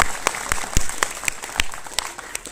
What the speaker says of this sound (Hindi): तालियां जोड़िए।